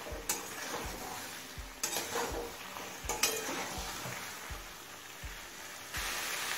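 Chicken liver and stomach stir-fried over a medium flame, with a steady sizzle and repeated scrapes and clinks of a utensil against the pan at an irregular rhythm, close and alone without talk.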